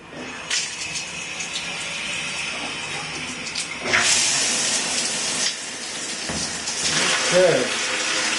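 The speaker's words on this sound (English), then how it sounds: "turn the water on." A 5-inch, 7-setting shower head sprays water in a steady, close hiss and rush, with splashing surges as the stream shifts, alongside faint background voice.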